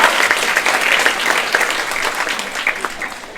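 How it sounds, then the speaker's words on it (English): A large audience of around 400 women leaders at an evening gathering breaks into a loud, sustained round of applause, dense clapping that stays strong throughout and fades slightly toward the end. "I think that warrants a round of applause."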